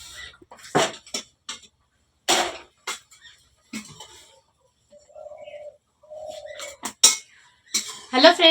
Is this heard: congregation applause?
no